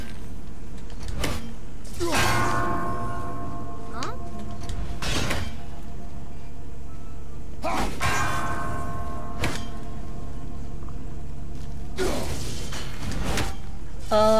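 Bells ringing in the God of War video game: several loud, sharp metallic strikes with long ringing decay, spaced a few seconds apart over steady game ambience.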